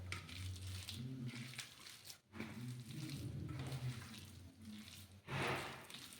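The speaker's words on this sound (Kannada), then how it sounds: "ಈ ಥರ ನೀಟಾಗಿ ಎಲ್ಲ ಕಡೆ ಮಿಕ್ಸ್ ಮಾಡೋಣ." Onion pakoda batter being mixed by hand with a little water makes soft, wet squelching and crunching sounds in a steady irregular rhythm, quiet and close, with no talking.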